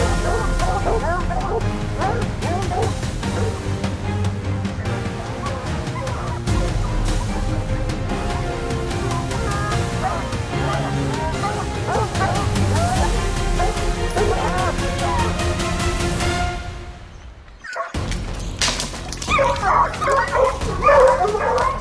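A pack of hunting dogs bark and yip continuously and loudly in the wild during a black bear hunt, with voices talking over the din, before an abrupt brief pause and a renewed burst.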